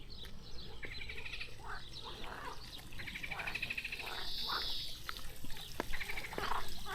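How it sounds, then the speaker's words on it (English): Frogs croak in a park, faint and distant, in scattered bursts of rattling calls mixed with chirping birds over quiet outdoor background noise, with occasional soft clicks and rustles nearby. "Another beautiful park with lots of frogs, which you should be able to hear."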